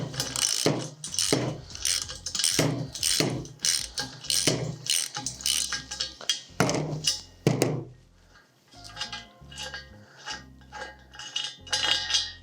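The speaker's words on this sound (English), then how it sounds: "I have an open end wrench and then I have a 19 millimeter. I'm going to remove these 2 lower ones first" Ratchet wrench loosening the lower 19 mm stop nut bolts on a steel tent jack, with repeated quick metallic clicking bursts close up, pausing between strokes and followed by lighter clinks.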